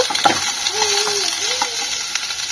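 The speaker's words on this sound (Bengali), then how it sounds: "এবার এগুলো দিয়ে দেবো তেলের মধ্যে তেলের মধ্যে দিয়ে হালকা একটু ফ্রাই মতো করে নেব" Potatoes, drumsticks and papaya fry lightly in hot oil, giving a steady close sizzle with faint stirring clinks, while a voice hums a soft tone over it.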